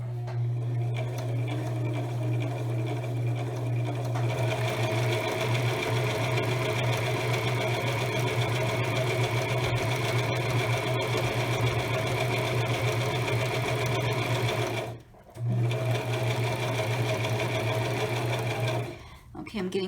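A sewing machine runs steadily while back stitching a fabric glasses pouch, with a continuous close hum and two brief stops near the end.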